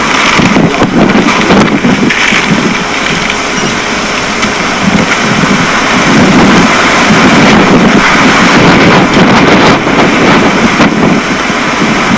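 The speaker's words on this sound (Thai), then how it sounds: "ลมแรงมากวันนี้" Strong wind roars steadily across a hilltop summit in the late afternoon, buffeting the microphone with a continuous loud rush that swells and gusts throughout, with no other sound rising above it.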